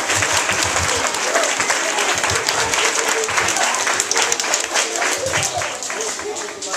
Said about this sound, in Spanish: Recibamos con fuertes aplausos.